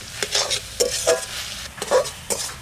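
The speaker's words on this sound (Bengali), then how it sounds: "এই যে শাকটা রান্না করছি" Saag (leafy greens) cooked in a home kitchen pan, with intermittent scraping stirs and a few spoon clinks against the metal, several short bursts over a quiet background.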